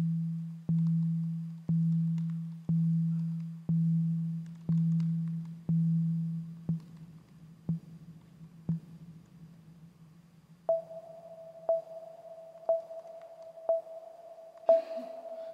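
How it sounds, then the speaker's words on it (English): A series of synthesized beeps at a steady one-per-second pulse, low tones fading in loudness, then switching to higher, sharper beeps with a reverberant tail. "And let's play beep."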